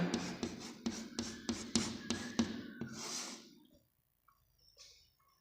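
Pen strokes on paper while Hindi words are written by hand, a quick series of about ten sharp scratchy taps in a steady rhythm, close and fairly quiet, then a softer drawn stroke before fading to near silence.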